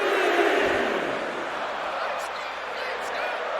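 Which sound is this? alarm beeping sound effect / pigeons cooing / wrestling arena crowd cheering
wrestling arena crowd cheering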